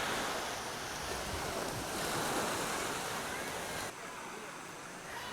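Surf washing onto a white sand beach at Banggai Laut, a broad continuous wash of breaking waves with wind noise, loud and steady, dropping slightly in level near the end.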